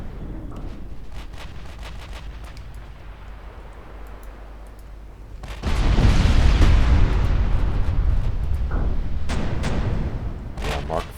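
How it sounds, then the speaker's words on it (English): A warship blowing up under gunfire in Ultimate Admiral Dreadnoughts, a sudden heavy rumbling blast that swells and roars on for several seconds, loud and broad, after a steady drone of naval combat. "And Capri follows up by blowing up the other one."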